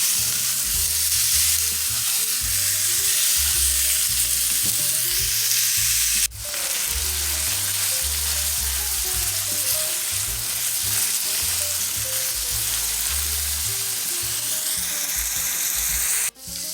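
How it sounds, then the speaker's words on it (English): A pound of ground beef frying in a pan while it is broken apart, a loud close sizzle with rhythmic scraping and rubbing of a utensil against the pan, pausing briefly twice. "you want to add your pound of ground beef. All we're going to do is break it apart, and we're going to let it cook until it's all brown"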